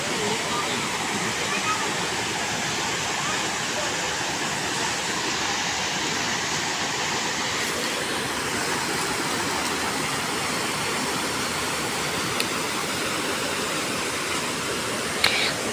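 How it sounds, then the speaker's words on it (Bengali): A steady, loud roar of a mountain waterfall in a hillside park, broadband rushing water continuing unbroken throughout with no clear speech over it. "এখানকার ঝর্ণার আওয়াজে আমার মনটা চলে গেল।"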